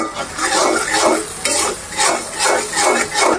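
Chicken and spices with salt and garam masala are stirred and fried in a pan, with loud rhythmic scraping strokes repeating over a steady sizzle, close up and with no talk.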